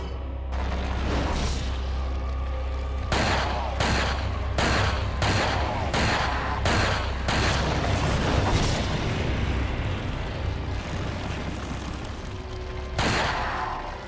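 Loud, sharp gunshots crack over a constant low game rumble in a boss fight against Ramon Salazar, with a quick burst of about eight shots followed by a single later shot.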